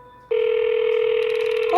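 A telephone rings in a Roblox game, a steady electronic ring tone starting abruptly after a brief quiet moment and holding loud and continuous, with a faint pulsing beep joining near the end.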